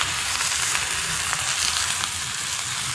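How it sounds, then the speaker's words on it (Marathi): Fresh moringa leaves frying in a hot pan with turmeric, a steady close hiss and sizzle with faint crackles throughout. "जे स्वच्छ मी धुवून घेतलं होतं ना शेवग्याच्या शेंगेचा पाला, तो मी आता घालते।"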